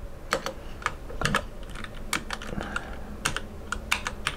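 Computer keyboard typed on with one hand, giving slow, uneven clusters of sharp key clicks separated by short pauses, close and clear with no voices.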